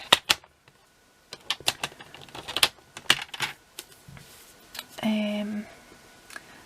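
Paper is cut and handled for pyramid gift boxes, with a series of sharp, close clicks and snaps from a paper trimmer, irregularly spaced, plus a brief sliding scrape; a voice speaks quietly in between.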